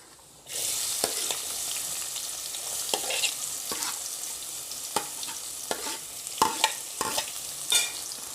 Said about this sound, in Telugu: ఇప్పుడు ఉల్లిపాయలు ట్రాన్స్పరెంట్గా అయ్యేంత వరకు